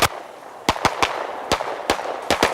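Gunshots crack from shooters firing at an outdoor range, a series of sharp single reports spaced irregularly over a steady background hiss.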